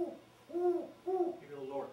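A person imitates a male great horned owl, giving a short series of low, soft hoots spaced in a steady rhythm, close and fairly quiet.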